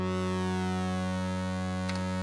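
A synthesizer layer holds a sustained, smooth tone with a low pass filter turned down, steady and fairly quiet throughout with a brief faint chirp near the end.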